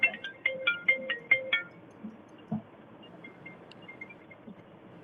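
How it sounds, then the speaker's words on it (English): A telephone rings during a call, six quick electronic ring tones in a rapid series, followed by faint clicks and quiet background noise. "I heard a phone call or something just now"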